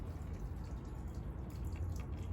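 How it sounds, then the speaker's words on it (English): Water drips steadily after a silky dogwood has been repotted, a soft, close trickle with a low rumbling background and no talk. "Got the nice sound of dripping water to finish this video."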